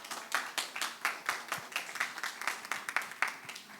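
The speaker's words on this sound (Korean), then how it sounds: "큰 박수 부탁드리겠습니다." An audience claps for the cook being introduced at a farmers' taste workshop, steady rhythmic clapping from a small crowd that sounds fairly close and even throughout, with no voices.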